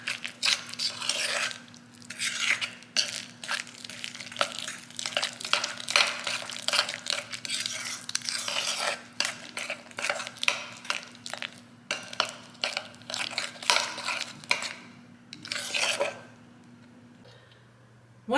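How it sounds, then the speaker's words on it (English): Ingredients for a chocolate crème brûlée whisked together in a bowl, a fast, continuous run of scraping and tapping strokes with a steady low hum underneath, slowing toward the end. "We're going to mix these up evenly."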